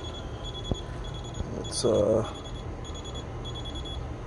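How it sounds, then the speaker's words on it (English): The alarm on a meat smoker thermometer beeps in short, repeated high-pitched bursts while beef sirloin tip is being smoked. Someone talks briefly over it at close range. "my alarm there."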